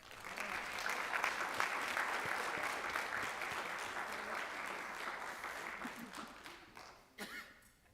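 An audience at a school board meeting applauds an award, a sustained, even wash of clapping from a roomful of people that fades toward the end, with faint murmurs underneath.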